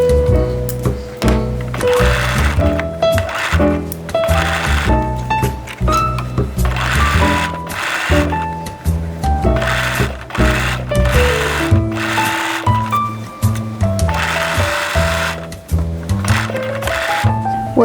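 A sewing machine stitching along a dress sleeve near the dart, a loud close rhythmic whir with repeated stops and starts and some clunks, and no talk over it.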